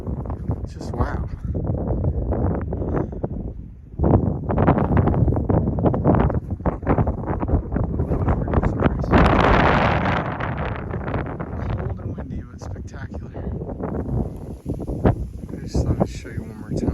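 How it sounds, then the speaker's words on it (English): Strong gusts buffet the microphone on an exposed mountain ridge along the Granite Tors Loop Trail in Alaska, roaring loudly under a person talking, with a brief lull near four seconds. "The wind is not muffling my voice too much."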